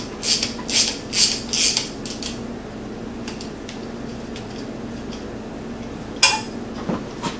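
Small metal clicks and clinks from working a little pin out of the stock shifter of a Polaris RZR 900S, a quick cluster of taps at the start and another near the end over a steady low hum.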